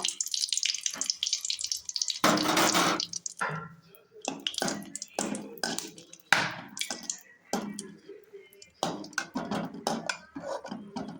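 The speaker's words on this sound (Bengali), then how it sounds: "এবার চারটা শুকনো লঙ্কা ভেজে নেব" Four dried red chillies fry in hot oil, giving intermittent crackling and spitting bursts with short pauses, close and moderately loud.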